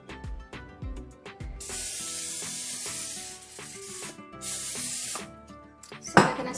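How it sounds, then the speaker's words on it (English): Olive oil spray misted into an air fryer basket while cooking crispy bhindi, several long hissing bursts of spray over soft background music, with a clatter at the end. "I'll spray a little bit of olive oil in there."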